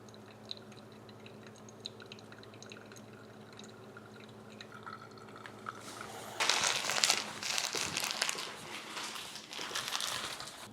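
Pour-over coffee brewing, the remaining water poured over the grounds; a quiet stretch of small drips and faint clinks gives way to a louder, rushing splash of pouring water close by in the second half.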